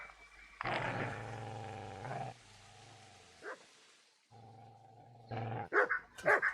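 A dog barks and growls in the video game Kingdom Come: Deliverance, loud close bursts separated by short pauses, with sharper yelps near the end.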